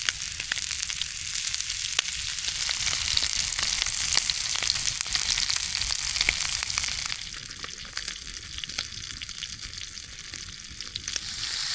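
Montreal steak frying at a winter riverside tarp campsite, a steady loud sizzle throughout with small crackles and occasional stirring, easing slightly in intensity partway through.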